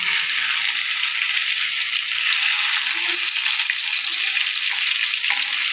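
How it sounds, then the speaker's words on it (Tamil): King fish fry sizzles hard in a pan, a loud, steady hiss of hot oil with faint stirring and shifting as the pieces are turned. "ஒரு பக்கம் வெந்துச்சு, இன்னொரு பக்கம் திருப்பி போடுறேன்."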